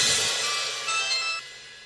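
A phone rings with an incoming call: a bright electronic ringtone of sustained tones that carries for under two seconds, fairly loud and close, then drops lower near the end, with no talk over it.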